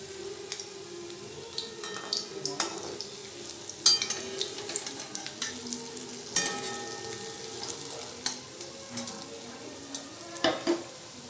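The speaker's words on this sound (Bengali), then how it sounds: "গাদাল পাতার বড়াগুলো এখন ভেজে নিচ্ছি" Gadal leaf fritters frying in hot oil, made in a home kitchen, with a steady sizzle and scattered louder crackles and pops as they are turned and stirred.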